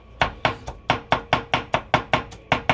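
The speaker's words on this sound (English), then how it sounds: "I'm chopping up the stems and everything" A knife chops through fresh cilantro stems on a cutting board, about a dozen sharp, evenly spaced strikes in quick rhythm, close and clear with no talking.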